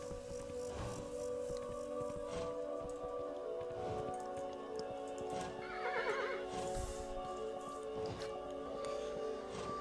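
Horse neighs and clip-clopping hooves from the video game Kingdom: New Lands, with a whinny standing out around the middle over steady game music and ambience, no talk.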